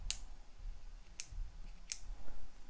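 Three sharp, quiet clicks from a Garmin Tactix Delta Solar watch band clasp, evenly spaced about a second apart against a low background rumble, with no talking.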